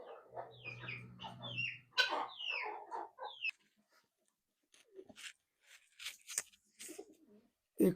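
Pigeons and chickens kept in coops on a farm make soft, close coos, clucks and short calls in an irregular patter, with brief silent gaps between them.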